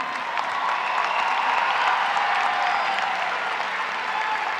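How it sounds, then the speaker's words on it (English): Sustained applause from a commencement crowd for graduates at Bowie State University, a broad even wash of many hands clapping at steady volume throughout. "Please give them your applause."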